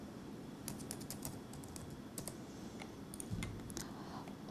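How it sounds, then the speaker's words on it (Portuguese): Computer keyboard keys clatter in quick irregular bursts of typing, with occasional harder Enter presses, close and fairly quiet with no talking. "você pode ir dando Enter aqui dentro"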